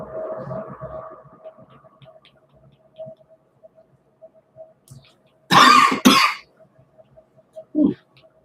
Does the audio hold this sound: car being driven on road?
no